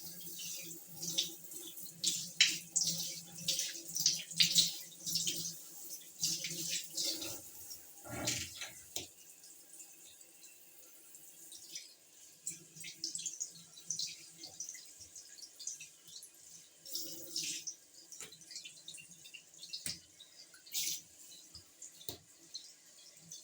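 Tap water runs into a bathroom sink or tub for washing hair, a steady splashing flow with drips and a few breaks, close and moderately loud, with no talking.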